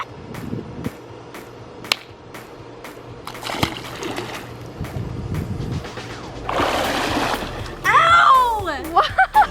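Water splashes and sloshes as someone goes underwater in a swimming pool while testing hair extensions, with a louder burst of splashing near the end. Voices and a yelp can be heard.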